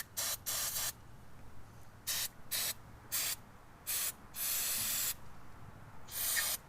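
Short bursts of aerosol cleaner spray hiss in an irregular series onto a Toyota Tacoma engine, some quick puffs and one longer sustained spray, with quiet pauses between.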